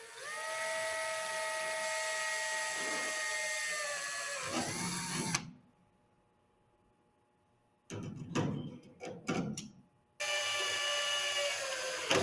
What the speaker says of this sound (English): Then drill the remaining 1/8 inch holes and cleco in place.